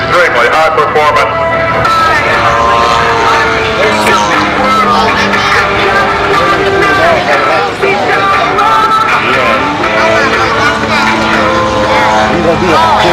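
A high-performance aerobatic airplane flies at the Winston Salem air show, its engine a steady drone beneath continuous loud announcer talk.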